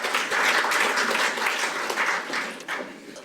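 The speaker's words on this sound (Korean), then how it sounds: "큰 박수로 맞이해 주시기 바랍니다." Sustained applause from a seminar audience welcoming a speaker to the podium, loud and even, slowly tapering off toward the end.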